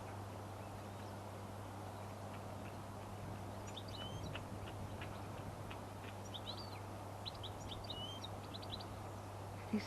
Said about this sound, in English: There's a bird there, look.